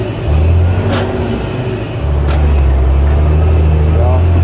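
A 1999 Peterbilt dump truck's diesel engine drones loud and close inside the cab, dipping as the driver lets off and rising again as gears change. Voices talk over the engine.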